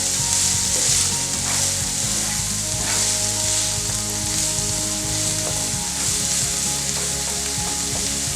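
Tomatoes and red bell peppers fry in a pan with a loud, steady, close sizzle and crackle that holds evenly throughout, with no talking.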